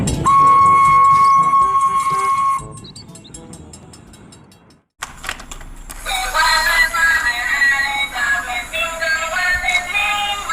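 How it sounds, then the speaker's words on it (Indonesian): A Thomas toy train runs with a loud electronic whistle-like tone at first, then rattling mechanical clicks, a brief pause, and a busy, noisy burst of its sounds and music. "di sini ada kereta api Thomas"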